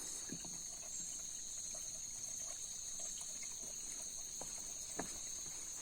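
Water flows steadily at a stream near Chisapani in Karnali, Nepal, a constant soft rushing wash with faint trickles and splashes, no voices.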